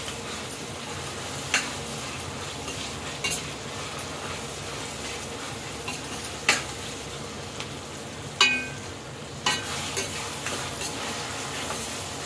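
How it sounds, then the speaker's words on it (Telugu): Rice deep frying with salt and turmeric in a pan, a steady close sizzle with occasional sharp spatula taps and scrapes against the pan, no talking. "ఇలాగ మొత్తం డీప్గా ఫ్రై చేసేసుకోవాలి"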